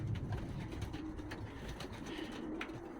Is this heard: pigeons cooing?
yes